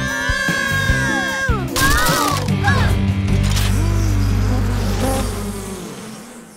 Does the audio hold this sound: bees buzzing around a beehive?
yes